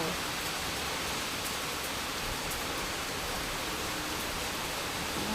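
Steady rain falling outdoors, a dense, even hiss that stays constant throughout at moderate level with no talking.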